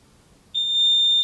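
An interval timer beeps to end a 30-second exercise in a Muay Thai class, a single sharp, steady tone that starts abruptly and holds loud against near silence.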